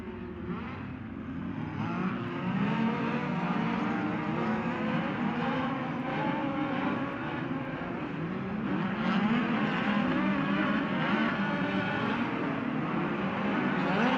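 Pack of dirt track race cars on hot laps at Ventura Raceway during the Turkey Night Grand Prix, a continuous loud roar of several engines overlapping and revving, steady throughout.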